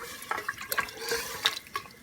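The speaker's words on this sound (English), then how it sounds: "now I'm going to go ahead and add some water in there" Water poured into a pressure cooker over meat for a curry, heard as a close, splashing trickle with small drips and gurgles lasting throughout.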